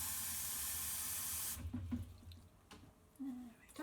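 Tap water pours steadily into a pot for about a second and a half, then the faucet shuts off, leaving a few light clinks and knocks.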